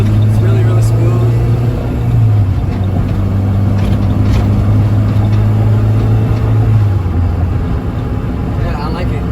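A Honda Civic with a swapped K20A Euro Type R engine idles smoothly and steadily, a loud, constant low hum with a faint overlay of voices.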